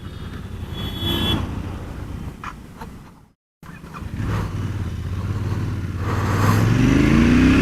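A Royal Enfield Interceptor 650 motorcycle is ridden through a U-turn, its engine note dropping briefly to near silence and then building again with a steady, rising drone up close.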